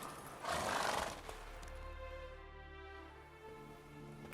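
Roach, Geralt's horse in The Witcher 3, gives a loud close whinny that rises and trails off, followed by quieter snorts and hoof sounds under a soft musical backdrop.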